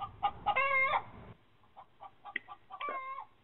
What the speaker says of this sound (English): There's a chicken outside.